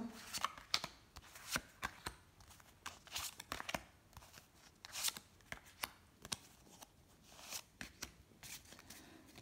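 Tarot cards being shuffled by hand, a quick run of crisp flicking riffles and soft papery slaps repeating irregularly, close and fairly quiet with no talk.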